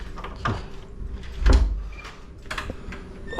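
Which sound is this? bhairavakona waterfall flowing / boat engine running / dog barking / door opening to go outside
door opening to go outside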